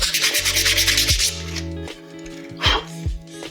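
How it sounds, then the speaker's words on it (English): A scrap of sandpaper is rubbed back and forth along the grain of a wooden salt cellar. Quick, loud rasping strokes come close up, then a pause and a few lighter passes. "You get your sandpaper, scrappy sandpaper, and you just kind of do this with the grain."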